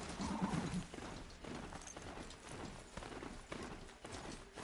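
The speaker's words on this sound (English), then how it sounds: "Fluffy the horse is the best horse." A horse mount named Fluffy in the video game Horizon Zero Dawn walks with a steady clip-clop of hooves. A whinny sounds near the start, and the whole thing stays faint and close.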